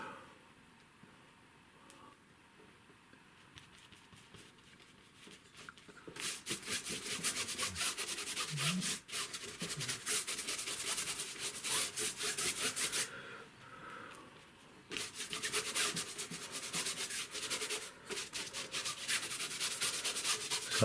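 A brush drags and scrubs acrylic paint across the rough tooth of a canvas, quiet at first, then giving long stretches of loud, dry rasping strokes, with a short pause partway through.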